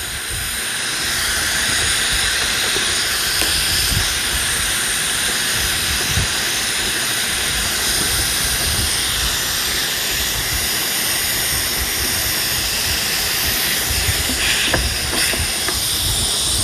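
Compressed air hisses steadily out of a Snowpeak AP1000B air rifle as its lower section is opened, a loud, close, continuous rushing hiss sustained for over fifteen seconds after a brief quieter start.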